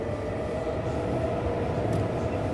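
A metro train in the city-building game Cities Skylines 2 rumbles steadily for a few seconds, a continuous low rolling drone with a faint hiss above and no speech.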